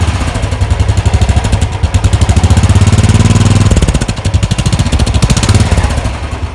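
A Royal Enfield Thunderbird 350X single-cylinder engine with its stock silencer idles and is blipped, its loud close thumping putting rising in a short rev before settling back to a steady beat.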